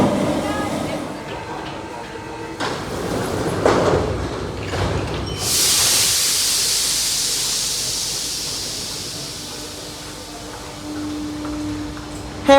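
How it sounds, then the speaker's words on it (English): A classic Paris Metro Line 13 train, doors sliding and clunking before a loud hiss of air and rumbling running noise, with a person talking over the early part. "Metro Line 13 does use some classic metro trains"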